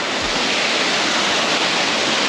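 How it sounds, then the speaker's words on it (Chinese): A small forest waterfall at Zhiyagan Falls in Hualien, Taiwan roars as a steady, loud, broadband rush of falling water, continuous throughout with no voices. "这边就是一个小瀑布"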